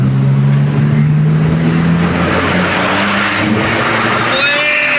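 A loud Porsche sports car worth around 500,000 euros revs hard, its engine note droning and then climbing. A brief high tire squeal cuts in near the end, with no talk.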